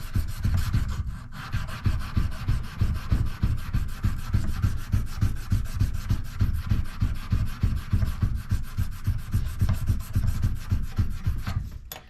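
Folded stiff sandpaper rubbed back and forth along the grain of a hardwood bridge blank for a Martin D-35 guitar, a steady rhythmic scratchy rasp of close strokes continuing throughout with no talking.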